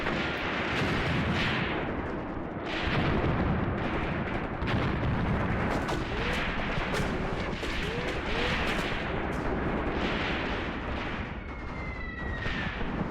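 Vehicle gunfire and artillery in the wargame Graviteam Tactics: Mius Front, with repeated booming blasts and cracking shots over a constant rumbling battlefield din, some distant and some nearer.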